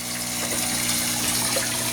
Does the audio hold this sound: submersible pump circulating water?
yes